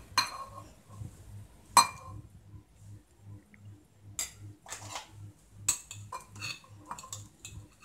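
Boiled cauliflower being mixed into coating batter in a bowl, with scattered metallic clinks and scrapes of a spoon against the dish, fairly quiet, and a low steady hum underneath.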